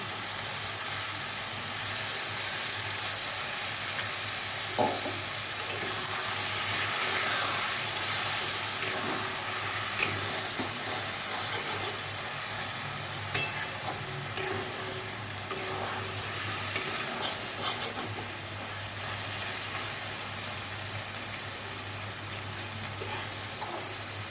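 Mustard, poppy seed and green chili paste hitting a hot pan for a water lily (shapla) curry: a steady, close frying hiss and sizzle with occasional light stirring clicks, no voices.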